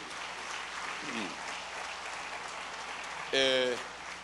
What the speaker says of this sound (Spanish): Denle ese aplauso al Rey que siempre le damos